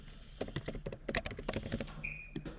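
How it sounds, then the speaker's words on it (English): Computer keyboard typing in a short burst of clustered keystrokes, close and fairly quiet, while a container name is entered during a cloud storage setup tutorial, with a brief electronic tone near the end. "we're going to type the container name"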